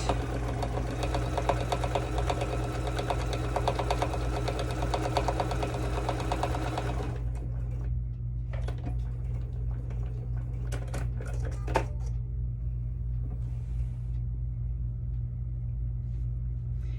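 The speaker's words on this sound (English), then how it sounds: "when I sew, I am going to sew the pretty sides facing each other like this, and I'm just going to do a simple straight stitch" A sewing machine runs a simple straight stitch through placemat fabric, whirring rapidly and continuously for several seconds and then stopping, leaving a steady low hum broken by a few light clicks and handling sounds.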